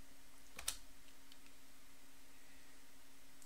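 A short burst of keystrokes on a computer keyboard, typing a Linux apt command as root on a Debian VPS. The clicks are quick and faint, then fade into quiet room hiss.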